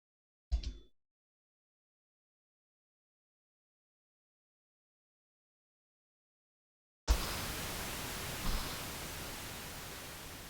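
Synthesized waves-on-a-beach sound made from rising and falling pseudo-random noise: after a brief click and long silence, a steady, fairly loud broadband hiss starts abruptly and swells slightly, with no talking.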